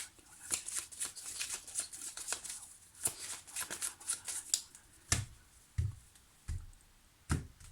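Tarot cards shuffled by hand in a quiet room, giving a run of papery riffles and clicks that settles into a few separate, sharper card slaps near the end, with no talking.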